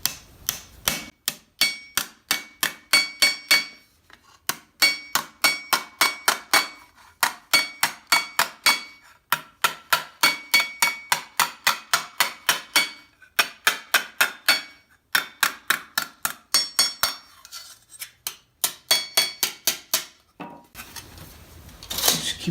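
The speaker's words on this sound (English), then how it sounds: "So now I go to the anvil for more crease on it." A metal armor pauldron is hammered on an anvil in quick rhythmic bursts of sharp, ringing clanks, each run of strikes broken by short pauses, close and loud.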